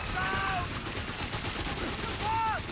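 Gunfire from the Company of Heroes 3 strategy game, with troops firing at a building in a 2v2 match. It is a dense, continuous crackle of shots with whistling tones over it, loud and steady throughout.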